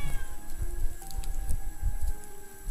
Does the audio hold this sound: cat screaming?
yes